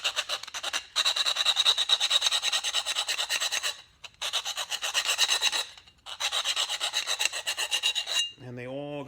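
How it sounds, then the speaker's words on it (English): A round file rasps back and forth inside a steel tube during a race car build, deburring the cut end in three long bursts of rapid, rhythmic strokes with brief pauses between, close and loud, ending in a short ringing scrape. "So basically you're going to take either a round file or half a file."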